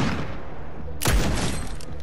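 A single sharp, loud gunshot blast from the video game Fortnite cracks out midway, standing above a steady background of game ambience.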